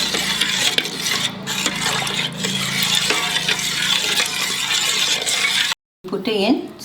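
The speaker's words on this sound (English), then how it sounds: "keep stirring this on low flame only till it becomes homogeneous mix" Payasam being stirred on a low flame after thin coconut milk goes in, a close, continuous scraping and swishing of the spoon in the pot, with talk over it and a short silent gap near the end.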